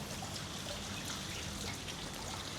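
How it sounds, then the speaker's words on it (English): Water trickling at a resort in Bali, Indonesia, a soft, continuous splashing and dribbling heard faintly and evenly throughout, with no voices. "And just the water sounds, I think, are super peaceful."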